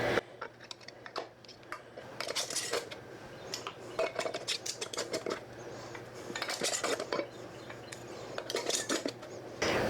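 Glass canning jars and their lids clink and rattle as they are set into a canner while applesauce and apple pie filling are being canned. Many quick, bright taps and knocks come in irregular bursts, close up and moderately loud, throughout.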